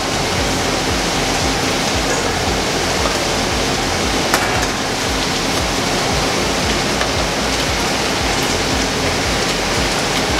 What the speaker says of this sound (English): It's vegetables that are being stir-fried.